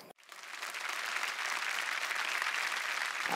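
Studio audience applause on a Marathi TV game show, starting abruptly after a short pause and swelling into dense, sustained clapping that continues loudly to the end.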